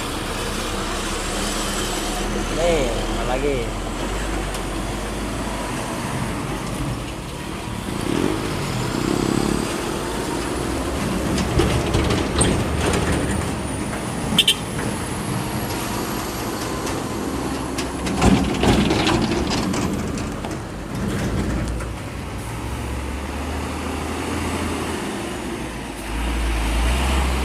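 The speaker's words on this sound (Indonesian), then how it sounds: "Ini truk-truk dari Palembang nih, truk dari Palembang." Trucks from Palembang rumble past on a damaged road under repair in Senawar Jaya village near Simpang Wonorejo, a steady mix of heavy engine drone and traffic noise with a brief spoken word.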